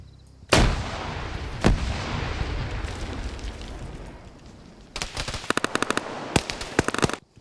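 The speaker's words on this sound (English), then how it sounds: "Got some long-range machine gun fire going for those positions, though." Machine gun fire and grenade blasts sound during a US versus China PvP match in a military shooter game, with sharp booms early on and rapid bursts of automatic fire later, loud and close.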